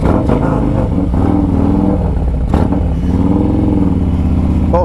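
A Harley-Davidson Road Glide motorcycle rumbles loud and close on a test ride, its engine revving and pulling hard with a deep throbbing note, rising and falling as it accelerates.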